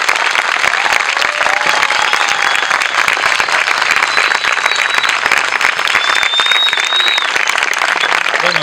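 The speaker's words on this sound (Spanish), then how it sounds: "Otro aplauso más fuerte." A large audience at an Argentine national camp event claps loudly and steadily, a thick unbroken wash of applause with no voices on top.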